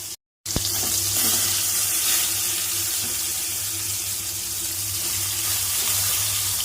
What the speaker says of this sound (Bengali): এই দেখুন আমরা গ্যাসটাকে মিডিয়ামে দিয়ে বেগুনগুলোকে ভেজে নেব